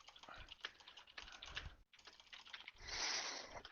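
Typing on a computer keyboard, a dense run of clicks and key taps close to the mic, broken by one brief pause and then a louder, noisier stretch near the end.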